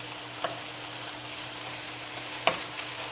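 A spoon mixes mashed sweet potato with seasonings in a bowl, making soft, steady scraping and squelching sounds with two faint taps, close by and quiet, with no voices.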